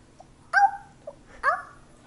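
A person imitates a big dog's bark, giving two short, voiced woofs about a second apart, close and fairly loud in a quiet room.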